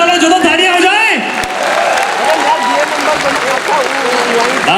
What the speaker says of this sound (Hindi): दिल्ली वालों जो तो तालियां हो जाए।